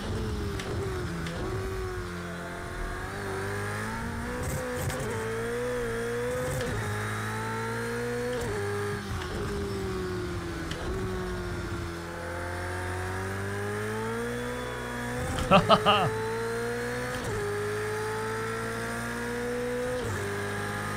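Race car engine in Project Cars 2 holding a steady drone that rises and falls with throttle, with a brief cluster of sharp tyre-lockup squeals under braking near the end; no talking.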